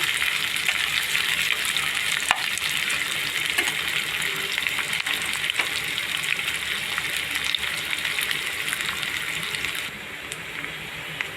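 Onions frying in a pan for prawn dum biryani, a dense, even hiss of sizzling oil running throughout with small crackles, close and steady, easing slightly near the end, no talking.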